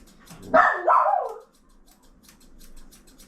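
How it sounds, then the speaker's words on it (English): A single dog bark from a Cavoodle puppy ends in a drawn-out howling yowl, fairly close and loud, then quiet background. "the neighbour's dog's barking"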